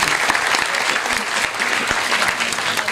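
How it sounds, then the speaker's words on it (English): A school assembly audience gives a sustained round of applause for the faculty, dense clapping from many hands that keeps going steadily throughout. "a very big round of applause and thank you to our faculty for all their time"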